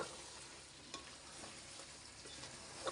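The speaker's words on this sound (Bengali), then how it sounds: "আলু দিয়ে দিলাম" Potatoes are stirred into beef curry cooking in a pot, a soft steady sizzle with a few faint scrapes and clinks of the spoon.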